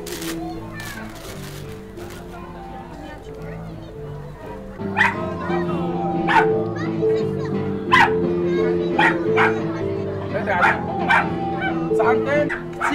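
Several dogs at a busy outdoor city market bark in repeated sharp bursts over continuous crowd chatter and background music. A few yips and whimpers are mixed in, and the barking grows denser and louder partway through.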